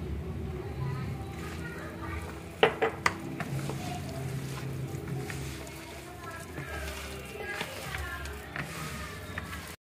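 Chicken pakodi batter with corn flour is mixed in a bowl, soft wet stirring and scraping with a few sharp clinks of utensil on the bowl, faint and close.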